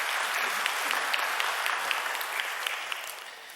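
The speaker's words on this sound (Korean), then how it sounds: "여러분들 환영의 박수 부탁드립니다." A church congregation at a Sunday worship service claps in welcome for returning members, a dense, even patter of many hands that stays steady and slowly fades toward the end.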